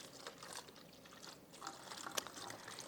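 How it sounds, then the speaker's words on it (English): Water pouring into a 2-liter plastic bottle at a kitchen sink, a soft, steady trickle with faint splashes and a brief sharp drip near the end, quiet throughout. "So I'm going to fill the water bottle, or the 2-liter."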